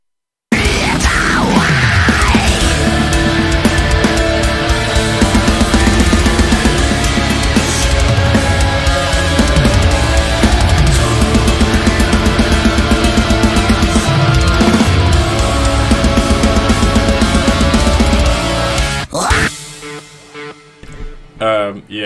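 The bridge of a heavy band track brings in choir voices over a dense, loud full-band mix. The layered sound stays sustained and powerful before thinning out near the end.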